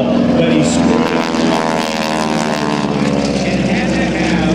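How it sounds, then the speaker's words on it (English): A propeller-driven airplane rolls at an air show above Hampton Roads, its engine a loud, steady drone with a rich harmonic buzz holding strong for the whole span, and a voice commentating over it. "what a great pilot he is as he does his roll and sets up for approach to landing"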